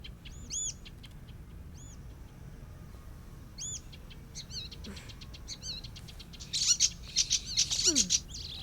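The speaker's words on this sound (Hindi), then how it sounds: "आसमान में इस चिड़िया को देखो।" Small birds chirp outdoors in short, bright repeated calls spaced across the clip, joined near the end by a faster burst of twittering over a faint background hum.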